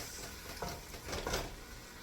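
Ground turkey browns in a soup pot, giving a soft, steady sizzle with a few quiet stirring scrapes and bumps partway through, all faint and without talk.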